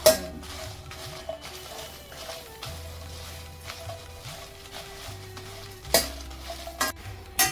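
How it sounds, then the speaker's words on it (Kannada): Brinjal dry-roasting in a pan on a low flame, a soft continuous sizzle broken by repeated scraping stirs and metallic clinks of a spoon against the pan. "ಬದನೆಕಾಯಿನೂ ಅಷ್ಟೇ ಬಗೆಯಲ್ಲಿ ಸಣ್ಣ ಉರಿಲಿ ಹುರಿಬೇಕು"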